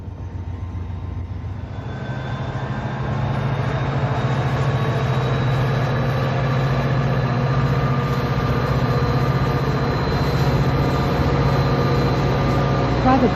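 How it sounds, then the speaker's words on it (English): A northbound Amtrak San Diegan passenger train arrives at a station on the Surfline, a loud continuous rumble of wheels and engine with a sustained horn-like tone, growing louder after the first few seconds. "an arriving northbound San Diegan arrives at the station"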